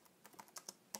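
Quick, light keystrokes on a computer keyboard while entering a terminal command during a Raspberry Pi 4 setup, a handful of crisp irregular clicks close up against a quiet background.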